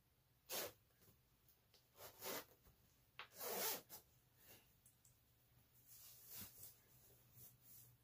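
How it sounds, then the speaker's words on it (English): An Ascolour zip-up hoodie being zipped closed, several quick rasping zipper strokes in separate bursts, close and fairly quiet, with no talk. "Let me zip it up."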